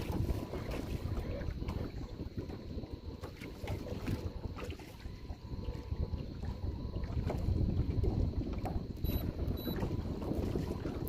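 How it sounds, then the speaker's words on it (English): Wind gusting against a small boat heading into it on open water, with heavy buffeting and rumbling microphone wind noise and some water sounds, steady and loud throughout, no speech. "we're fighting the wind right now"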